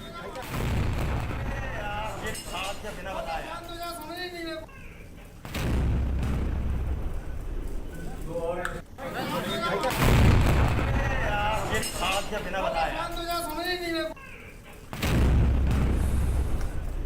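Sarang artillery gun test firing at the LPR range in Jabalpur: heavy booming blasts at intervals, each a loud low thump with rumbling tail, while a voice talks over the firing throughout.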